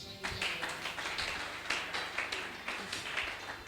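A church congregation claps in praise of the Lord, with steady rhythmic handclaps at moderate distance in a roughly even beat and no talking over them.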